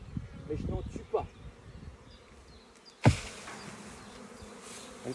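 A honeybee swarm knocked from a branch fills the air with a dense, steady buzzing around the recorder, broken by a sharp thump and occasional faint voices.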